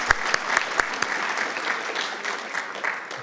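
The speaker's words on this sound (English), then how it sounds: "Let's give him a round of applause." Applause at a school board meeting: a room full of people clapping steadily, with a few sharp individual claps standing out at the start, sustained for several seconds at moderate loudness.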